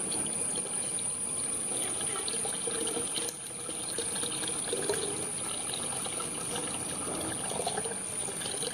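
Tobacco decoction for organic pesticide pours and trickles into a container in a continuous stream, a soft steady splashing throughout.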